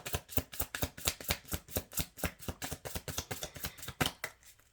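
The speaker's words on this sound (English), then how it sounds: "We're going to see if anything wants to shuffle out here." Tarot cards being shuffled by hand, a steady run of about twenty crisp riffling slaps in even rhythm, fairly quiet and close, with no talking.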